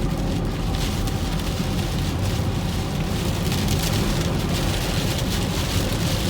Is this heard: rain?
yes